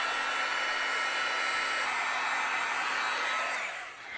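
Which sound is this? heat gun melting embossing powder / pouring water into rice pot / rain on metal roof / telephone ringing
heat gun melting embossing powder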